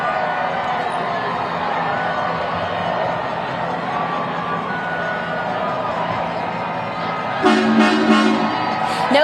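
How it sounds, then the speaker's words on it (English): Dense parade crowd cheering and shouting for the Carolina Hurricanes in downtown Raleigh at a Stanley Cup championship celebration, a steady loud roar with voices mixed in, then horns honking toward the end. "the crowd is going wild. Listen to them shout out"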